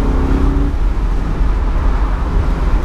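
A big naturally aspirated V8 in a BMW Z8 roadster pulls hard under acceleration, a loud, steady, deep engine roar filling the whole clip, with a brief tonal hum at the start.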